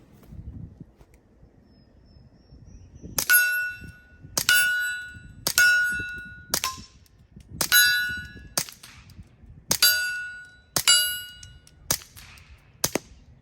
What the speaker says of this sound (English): The gun is super, super quiet with that ammo and with the suppressor on.